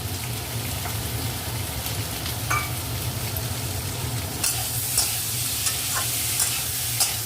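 A vegetarian potato curry (aloo dum) with new potatoes simmers and sizzles in a pan, with a soft steady hiss, a low bubbling hum and occasional scraping clicks of stirring.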